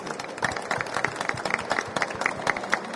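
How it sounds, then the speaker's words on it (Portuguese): A room full of hands clapping steadily for speakers after a talk, a dense, continuous burst of applause from a crowd, loud and close throughout. "Vou pedir mais uma salva de palmas para os palestrantes."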